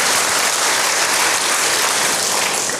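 A church congregation claps its hands together, a loud, dense and even patter from many people that holds steady throughout with no voices on top.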